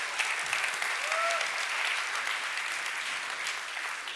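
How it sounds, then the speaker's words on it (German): An audience at a regional youth science fair award ceremony applauds steadily, a soft, dense, continuous patter of many hands, fairly distant, with a brief faint voice or whistle in the middle. "Applaus für euch."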